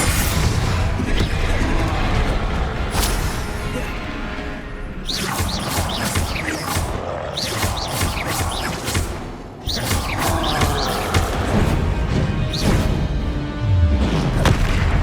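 Confringo fire spells bursting amid spell combat in Hogwarts Legacy, a dense wash of loud booms, crashes and magical blasts layered with game music and effects, with brief lulls between the clustered volleys.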